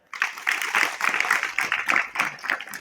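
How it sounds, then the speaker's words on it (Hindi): Young participants at a youth meditation camp clap together briefly, a close, moderately loud burst of applause with uneven rhythm that starts abruptly and carries on for a few seconds. "हाँ देखो, ताली बजा दो।"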